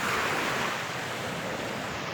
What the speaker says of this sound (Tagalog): Dito kami sa tabing dagat.